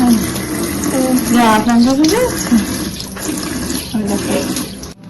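Tap water runs steadily in a bathroom while a child's feet are washed, a continuous splashing stream heard close up under a voice and a child's high vocal sounds.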